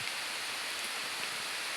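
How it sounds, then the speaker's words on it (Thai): Rain falls steadily in a forest as an even, close hiss of drops with no break, and no one speaks. "ฝนตกครับ"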